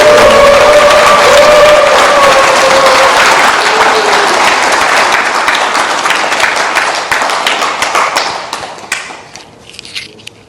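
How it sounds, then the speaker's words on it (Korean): An audience at a Korean lecture on barefoot walking and health breaks into loud applause with some cheering. The clapping starts full and dense, then thins into scattered claps and fades out at the end. "전부 다 우리 박수로 한번"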